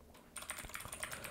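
Rapid, close keystrokes on a computer keyboard enter a localhost address, a brief quiet moment then a dense run of clicks.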